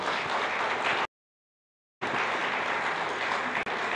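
An audience applauds at a church Bible seminar, dense steady clapping that cuts out for a moment and then resumes just as full.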